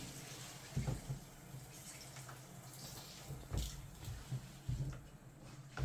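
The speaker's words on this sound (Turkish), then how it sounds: "Buradan çok tazikli su akar." A water purifier outlet runs under pressure, giving a low, uneven rush with a few louder surges. The flow is quiet and close, and no one speaks.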